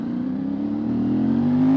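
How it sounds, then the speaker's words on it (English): A CFMOTO 450MT motorcycle's engine and exhaust revs, a steady, close, throaty drone that climbs in pitch near the end. "The engines, the exhaust are so good."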